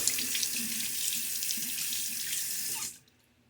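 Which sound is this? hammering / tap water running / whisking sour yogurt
tap water running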